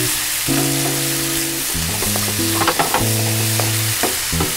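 Spinach and cashew paste with onion and chilli stirred in hot ghee in a pan, a steady sizzle with clear scraping strokes of a spoon against the pan, up close with no talking.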